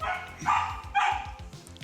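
A dog barks indoors early in the morning, a few short muffled woofs spaced about half a second apart, moderately close and fairly quiet.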